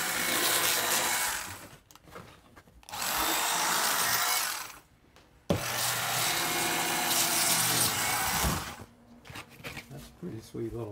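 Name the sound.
small saw with spinning octagon blade, like a jigsaw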